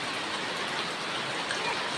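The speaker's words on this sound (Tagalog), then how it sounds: "Hanggang ngayon hindi ka naghuhupay ang ulan." Heavy, steady rainfall pours without pause during a prolonged downpour, a dense even hiss close by with no voices.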